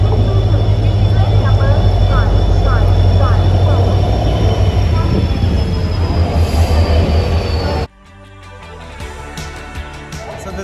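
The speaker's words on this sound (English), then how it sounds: "The train has arrived. Look at how huge it is." A long passenger train arrives at Hosapete station in India, its wheels squealing loudly as the train rolls in close by. Talk is heard over it, and the rumble cuts away abruptly near the end to quieter platform noise.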